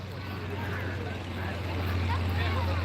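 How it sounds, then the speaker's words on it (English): A steady low float plane engine drone hums in the distance at an airshow, building slightly over wind and water noise, with no voices. "We do have an engine revving up,"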